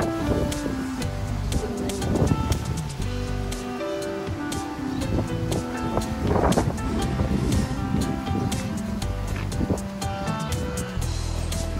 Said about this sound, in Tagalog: Parang may bagyo. Tapos yung hangin, sobrang lamig, guys.